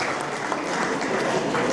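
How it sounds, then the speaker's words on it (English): An audience of nurses and guests at an International Nurses Day conference in Uganda claps in dense, continuous applause that stays steady and fairly loud throughout. "You've been clapping for them as they come because they have done the wonderful work."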